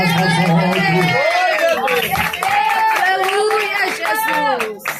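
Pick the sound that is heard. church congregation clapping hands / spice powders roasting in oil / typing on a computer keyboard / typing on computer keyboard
church congregation clapping hands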